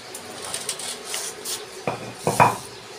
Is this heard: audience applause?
no